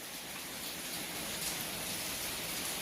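Steady rain falls throughout, a dense, even hiss of drops on surfaces with no voices.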